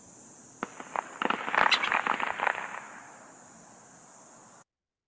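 A rapid burst of sharp firecracker pops and crackles, dense and fairly close, lasting a couple of seconds over a steady high hiss.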